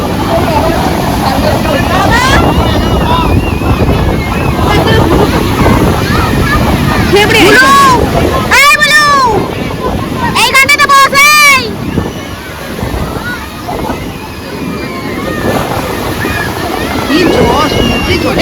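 Loud, continuous roar of ocean surf crashing on the beach at Puri, with heavy wind buffeting the microphone, and people shouting and calling out in the middle.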